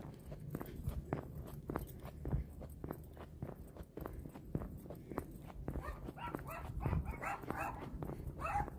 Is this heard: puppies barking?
yes